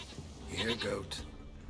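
A goat in The Witcher 3 bleats a couple of short, wavering calls at moderate distance, mixed in with game ambience and a nearby voice speaking.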